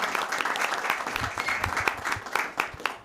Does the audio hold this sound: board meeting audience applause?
yes